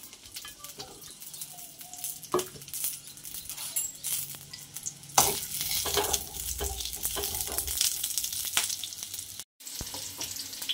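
Coarsely chopped onions fry in a pan for a spicy fish curry, a soft sizzle broken by occasional spatula clinks and stirring scrapes, with a brief drop to silence near the end.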